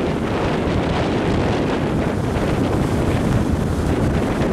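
Strong wind blowing at sea, around 30 km/h, near a barge, with waves, roaring as a steady, loud, continuous rush of buffeting noise on the microphone throughout, with no talk.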